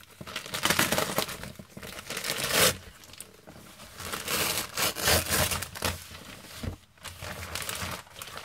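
Paper parcel packaging being opened by hand, with sustained crinkling, crumpling and tearing bursts that swell and fade across the clip, close and fairly loud with no talk.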